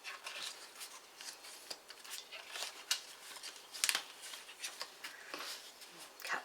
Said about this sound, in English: Cut those, chop those ones up there too